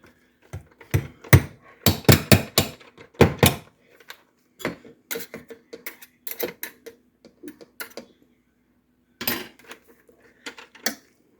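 A big chunk of butter is pressed and smushed into drained food in a pot, heard as a run of sharp metal clanks and taps from the utensil against the pot, in irregular bursts with quiet gaps and no talking.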